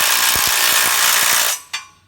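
A power impact tool tightens nuts joining a bed extension onto a WoodMizer sawmill, giving a loud buzzing whir with rapid hammering pulses that stops abruptly, followed by one short clank.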